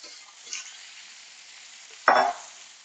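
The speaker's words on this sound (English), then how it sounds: "we're going to add the thighs to our pan. And all we're doing really is going to sear them first" Chicken thighs searing in a hot pan, a faint steady sizzle with a brief crackle early on, then a sharp loud burst of spitting fat as a piece goes in, settling back to a quieter hiss.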